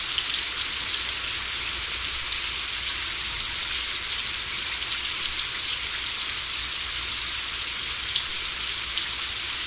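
Heavy rain pours steadily in a Costa Rican rainforest near the Sarapiqui River, a dense, even hiss of countless drops on leaves and surfaces, constant and close with no talking.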